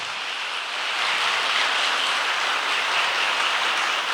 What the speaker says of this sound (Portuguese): Dá uma salva de palmas para o Senhor, porque Ele merece.